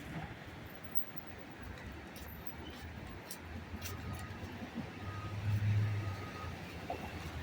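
Midtown Manhattan traffic on a summer night: a low, steady rumble of cars and trucks rolling past, fairly faint, swelling as a heavier vehicle passes near the end.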